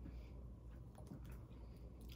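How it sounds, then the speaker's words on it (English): Close, quiet chewing of gum: soft wet squishes and small clicks of the mouth, continuous and unaccompanied by speech. "I can only chew so much gum."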